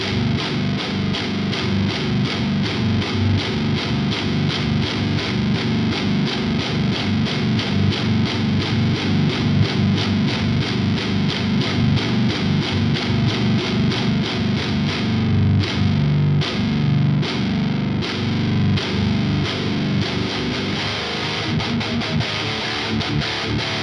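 A heavily distorted electric guitar plays continuously through a Friedman BE Deluxe tube amplifier, loud and dense, with chugging rhythmic strums throughout.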